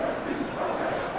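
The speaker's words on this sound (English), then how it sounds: "Now the crowd are demanding that they just finish this off." A simulated football stadium crowd, Manchester United against Crystal Palace in the Premier League, chanting and roaring as a dense, steady wall of voices with no separate calls standing out.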